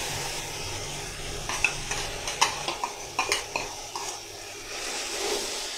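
Chinese chicken rice with green onion being stirred in a hot pan: a steady sizzle underneath with a run of sharp spatula scrapes and clinks against the pan, close and fairly loud, no voices.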